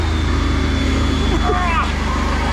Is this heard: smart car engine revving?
yes